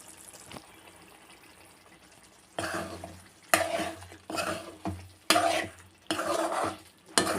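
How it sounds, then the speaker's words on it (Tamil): Spoon stirring egg masala curry in a pan, oil pooled on top: quiet simmer at first, then a series of loud, close scraping strokes in uneven bursts. "இப்போ இதை கலக்கி விட்டுடலாம் ஃப்ரெண்ட்ஸ்."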